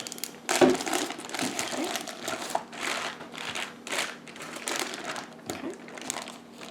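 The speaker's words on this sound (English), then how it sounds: "Now I hear it sealing. That Ziploc getting zipped" A Ziploc plastic bag holding venison is pressed shut along its zipper, giving a close run of crinkly, crackling plastic bursts that repeat irregularly for several seconds over a faint steady hum.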